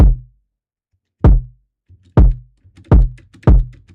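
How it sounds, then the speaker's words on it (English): Five deep, boomy kick drum hits from FL Studio, too heavy in the bass, each a loud thump with a short low tail, spaced irregularly with faint low hits between them and no voices. "a kick drum that is too bassy, you notice that some kicks sound like a basketball"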